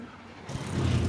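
A Ford Sierra Cosworth RS 500 touring car passes at the Goodwood Festival of Speed, its engine note swelling suddenly from a low distant rumble into a louder close roar within about a second.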